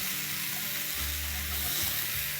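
Cumin and coriander powder being stirred into mutton frying in a pan, a steady broad sizzle with low scraping stir strokes, close and alone without any voices.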